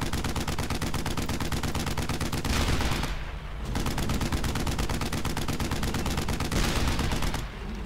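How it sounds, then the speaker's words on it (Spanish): Sustained machine gun fire in the World War II shooter Brothers in Arms: Hell's Highway, rapid and loud, rattling in long bursts with brief pauses between them. "Hay una ametralladora. Muy bien. Voy a disparar."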